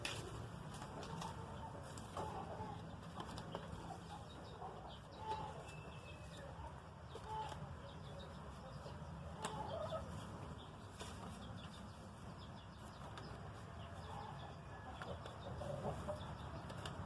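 Laying hens cluck softly at a farm nest area, a faint, distant and continuous murmur of calls with scattered rustles and small knocks, set against a low background rumble.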